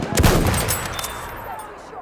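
In Battlefield 1, an anti-tank gun fires with a heavy booming blast amid other battlefield gunfire, and a long rumbling decay trails off afterward.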